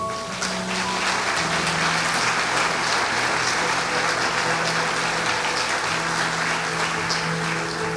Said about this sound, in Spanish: Denle un aplauso al Dios que vive.